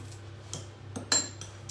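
A small spoon clinks against a bowl while stirring vinaigrette dressing, giving a few light, sharp metallic taps spread over a quiet background hum, with one brighter ringing clink partway through.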